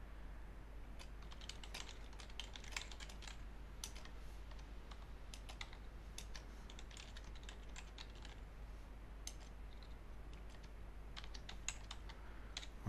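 Steady computer keyboard typing while code is entered, a quick run of light clicks and taps with short pauses, close and fairly quiet, with no voices.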